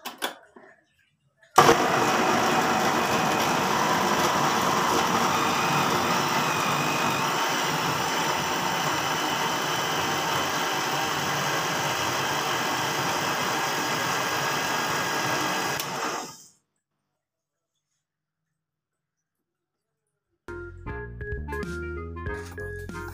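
Blender jug grinding washed green chilies with one to two glasses of water while making Punjabi-style mustard greens: a loud, steady whirring roar that runs about fifteen seconds, then cuts out, followed by brief quiet and some clattering.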